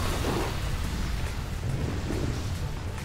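Explosion move sound effect from a Pokémon video game battle: a loud, sustained, rumbling blast with a dense low roar that fills the whole moment without easing off.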